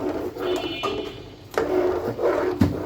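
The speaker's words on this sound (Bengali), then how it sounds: "বলক আসা রাখ পর্যন্ত এটা আমি নাড়তে থাকবো কারণ নিচে যাতে লেগে না যায়" A spoon scraping and stirring thick mango pulp in a pot over heat, a soft continuous rubbing and scraping close up, with a few sharper knocks against the pot, no voices.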